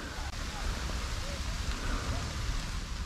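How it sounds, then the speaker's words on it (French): Steady rain falls outside a mountain refuge in Bessières, a dense, continuous hiss that stays close and even throughout. "Il pleut, c'est super."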